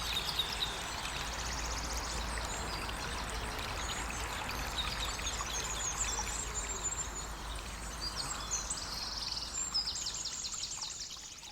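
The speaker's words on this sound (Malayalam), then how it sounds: "പാലത്തിന്റെ അടിയിലൂടെ ഒഴുകുന്ന തോട് ഈ ഭാഗത്ത് നിന്നാൽ വളരെ വ്യക്തമായി കാണാൻ സാധിക്കും." A stream in Meghalaya's Garden of Caves rushes steadily under a bamboo bridge, a continuous close wash of flowing water with faint bird chirps above it.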